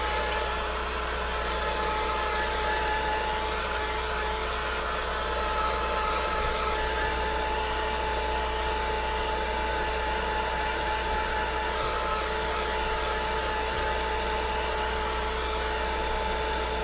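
A hair dryer blows steadily on painted paper, a loud, constant whooshing drone with a fixed hum that runs unbroken from start to finish.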